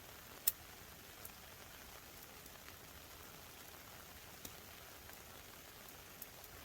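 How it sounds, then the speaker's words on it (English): Rain falls steadily on a tent on a mountain, making a soft, even patter with occasional louder drops tapping the fabric. It is faint and continuous, and no one speaks. "it's pouring with rain"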